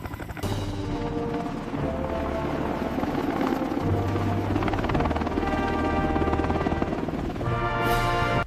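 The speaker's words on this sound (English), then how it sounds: "The AH-64 Apache, the undisputed king of attack helicopters." An AH-64 Apache attack helicopter flies with a continuous rhythmic rotor thump and turbine whine. The sound is steady and fairly close throughout, joined by a rising whoosh near the end.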